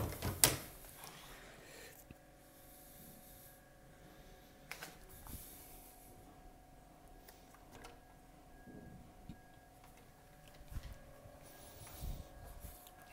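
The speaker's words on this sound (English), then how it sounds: "And then this all slides out." An old pine furniture piece has a front section that slides out to form a desk; it gives a sharp knock, then quiet wooden scraping and soft clunks that recur near the end.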